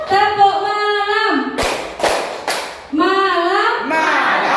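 Teachers in a Guru Penggerak training session clap in a tepuk malam chant, with three sharp, loud group claps in quick rhythm between spoken chant voices.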